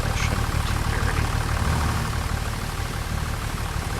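A tractor in Farming Simulator 25 idles with a steady, dense low rumble that stays loud and unchanging throughout.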